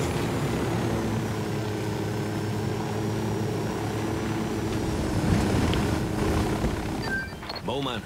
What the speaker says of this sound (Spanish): Al menos hay un helicóptero.